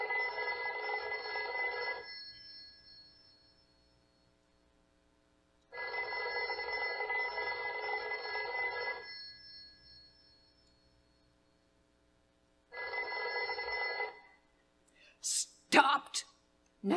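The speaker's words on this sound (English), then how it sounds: "let it ring, let it go on ringing." An old-fashioned telephone bell rings in a radio drama, three long rings separated by silent gaps, clear and steady, followed by a brief burst of other sounds at the end.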